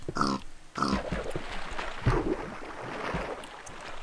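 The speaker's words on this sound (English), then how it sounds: "Let's go kill a pig and eat." In the video game Minecraft, a pig grunts in a few short bursts over a noisy background of game sounds, fairly close and moderately loud.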